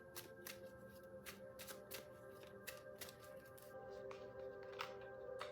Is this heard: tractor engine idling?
no